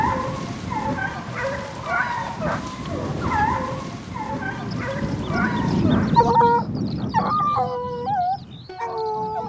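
A pack of hunting dogs bays and howls in overlapping voices while chasing a hare across open meadow, the chorus loud and continuous with sharper, clearer cries toward the end.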